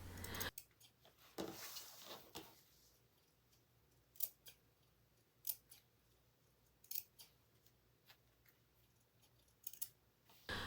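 Pinking shears snipping fabric close to the stitching around the ears of a sewn animal pillow, a series of crisp, quiet, separate cuts spaced irregularly, close up in a still room.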